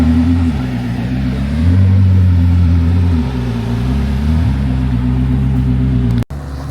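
Koenigsegg Jesko Attack supercar pulling up nearby, a deep loud engine drone that swells and eases in a couple of revs before cutting off abruptly at the end.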